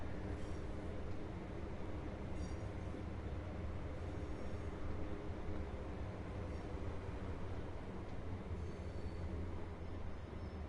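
A Class 66 diesel locomotive in the Train Sim World 6 game, on a modern West Coast Main Line route over Shap, gives a steady, dense, low engine rumble that holds at an even level throughout, with no talk.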